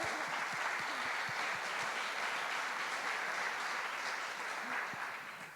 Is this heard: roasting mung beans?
no